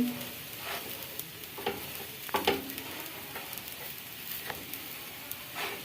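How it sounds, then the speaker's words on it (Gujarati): Cabbage snack pieces with sesame seeds pan-roasting until crisp: a steady, soft sizzle with light scraping and stirring taps throughout, fairly quiet and continuous with no voices. "બધી સાઈઝ આ રીતે આપણે શેકી લેવાની છે."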